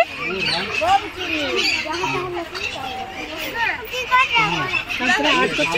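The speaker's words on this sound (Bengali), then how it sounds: "কি সুন্দর কিচির মিচির করছে।" Birds chirp and squawk at a zoo, their busy calls running throughout amid a crowd's babble and children's voices, with people talking close by.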